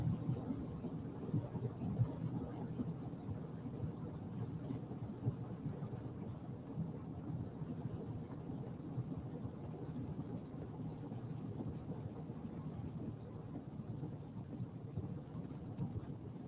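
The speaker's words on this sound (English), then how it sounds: "It's raining so hard you can't even see the mountain in front of us." Steady, heavy rain hissing without a break in the mountains, with a deep low rumble underneath that suggests distant thunder; no voices.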